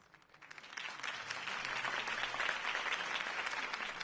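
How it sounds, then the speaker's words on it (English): A crowd applauds after a mayoral campaign speech, the clapping swelling in from near silence to a sustained, fairly distant wash of many hands. "could have heard that applause"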